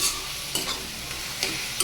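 Red amaranth greens stir-fry in a pan over a constant sizzle, with a utensil scraping through them in short strokes at regular intervals, close and without any talk.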